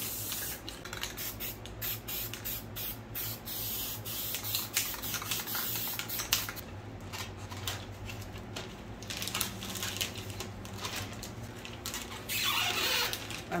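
Close hissing spray from an aerosol can of clear coat comes in bursts with short pauses, a faint tapping pattering underneath.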